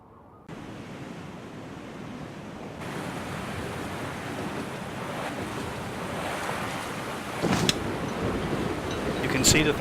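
Wind and ocean surf rush steadily and grow louder, with a few brief bumps near the end, from a cloudy, brisk easterly breeze during a Melges Cup sailing race in Virtual Skipper 5.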